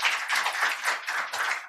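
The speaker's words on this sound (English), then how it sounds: "Applause for our fantastic guests." A small live audience at a medical podcast recording gives a brief, fairly faint patter of clapping, a few hands in quick uneven bursts over under two seconds.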